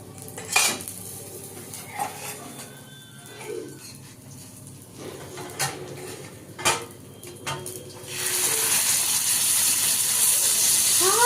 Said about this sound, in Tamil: இப்போ சிக்கன் குழம்பு எடுத்து மேல ஊற்றி விடணும்.